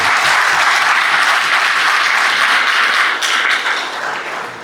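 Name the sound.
loud audience applause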